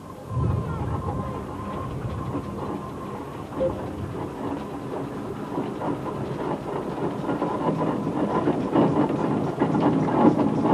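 A 1927 Marshall steam road roller with built-up, spokeless rear wheels runs with a steady mechanical chugging and clatter that grows louder and more rhythmic toward the end, with faint voices in the background.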